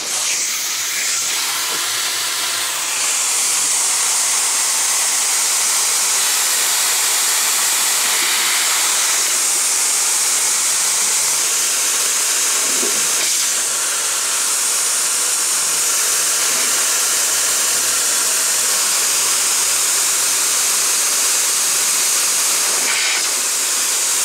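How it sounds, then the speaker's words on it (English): Compressed air from an airline hisses steadily as it operates the brake parts on a rolling road dyno, a loud continuous rush with a few brief louder bursts and no talk. "I'll just try to operate them with the airline just to show and prove that they're working."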